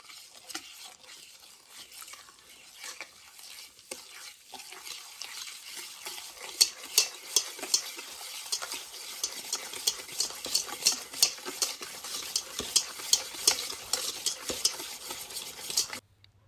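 A spoon or whisk stirs melted butter with brown and white sugar in a bowl for a blondie batter, starting as soft scraping and building into steady, close clinks and taps against the bowl, with no talking.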